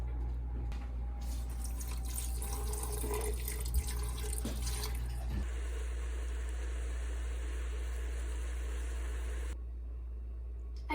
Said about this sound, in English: Now we're gonna drain and rinse the orange peels off.